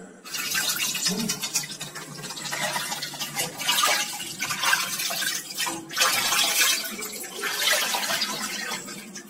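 Water from a shower bath, pumped up from a tube well, pours and splashes in an uneven hiss that swells and eases in waves, close and fairly loud, with no talking.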